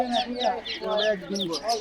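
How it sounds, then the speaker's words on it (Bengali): Brown cock chickens cluck in quick repeated bursts at Fatullah village market in Narayanganj. The sound is close and clear, with voices mixed in. "এই যে এখানে ছোট মুরগি আছে এটা কি মুরগি ভাইয়া ব্রাউন কক"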